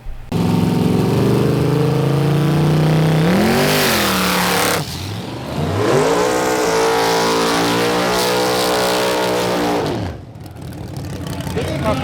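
Race cars blast down a drag strip at a Halloween Havoc event in Cumberland, Kentucky, with loud, close engines revving and rising in pitch through two long runs, a short dip between them and a fading roar at the end.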